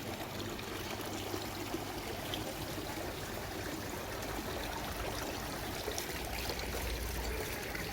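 Steady water trickling and splashing from a small fountain at a garden centre, running continuously at an even level with no voices.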